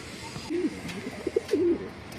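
Home-bred racing pigeons cooing: several soft, low throaty coos in short bursts, close by, over a light background hum.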